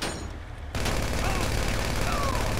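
Gunfire aimed at an armored Insurgent vehicle in GTA 5 Online: a dense, continuous fusillade of shots that swells louder after a brief dip, with a voice faintly present.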